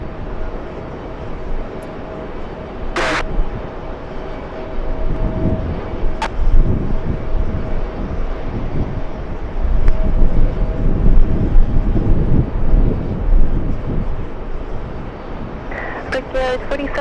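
An Air China Cargo freighter rumbles at JFK airport as a broad, steady engine roar that swells and holds, with brief sharp clicks and people talking over it.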